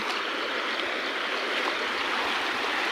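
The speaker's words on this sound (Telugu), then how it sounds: "ఇది చూడండి పొలాల్లోంచి ఎలాగా ప్రవహిస్తున్నాయో నీళ్ళు" Flowing water rushes steadily, a dense continuous gushing of the Urna stream through fields near Andukuru village, Krosuru mandal, with no pauses, fairly loud and close.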